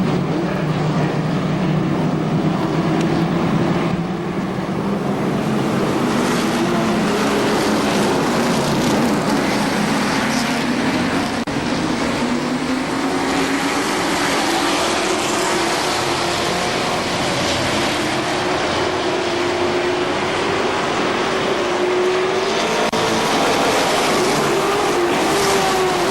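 Legends race cars roar around the KilKare Speedway oval, a continuous loud pack of engines droning and rising in pitch as they accelerate, with no talk.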